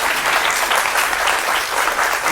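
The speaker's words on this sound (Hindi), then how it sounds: "इसलिए ताली बजा दीजिए आप लोग एक बार" Dense, loud studio audience applause on a Hindi political TV debate, a continuous thick roar of many hands clapping throughout.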